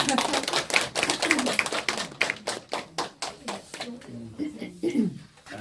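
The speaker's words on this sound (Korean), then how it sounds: "박수 한번." Scattered hand claps from a small gathering at a book discussion meeting, irregular and fairly close, thinning out toward the end with voices murmuring underneath.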